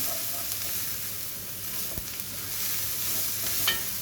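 Onion sweating in a pan gives a steady, even sizzle throughout, with a couple of faint utensil taps.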